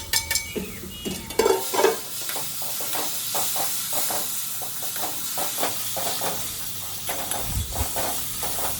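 Mashed bananas are stirred into semolina in a hot pan: a spoon scrapes and taps in a quick, uneven rhythm over a soft background sizzle, close and moderately loud.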